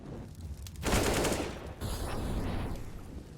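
Rapid automatic rifle fire in a CS:GO competitive match, a dense burst of gunshots followed by further scattered shots and game effects, moderately loud.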